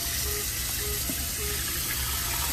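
Cold tap water runs onto cooked salt mackerel in a pot, a steady, close rushing stream with no talking.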